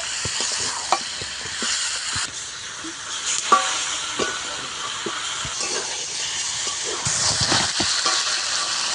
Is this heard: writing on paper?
no